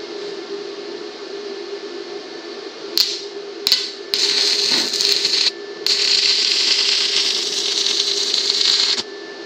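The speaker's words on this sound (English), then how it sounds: "that is starting the arc" A YesWelder YWA-160 stick welder striking an arc: a loud, steady electrical hum, then a few sputtering crackles as the arc catches, settling into a continuous harsh buzzing crackle that breaks off briefly and resumes.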